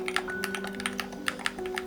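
Rapid typing on a quiet wireless computer keyboard, with soft, even keystroke clicks in a steady close-up rhythm over a faint constant hum.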